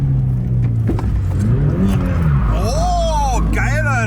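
A Toyota GT86 pushed to its limits while drifting revs hard, the engine note rising and falling through several sweeps, with tire noise and occasional voices inside the car.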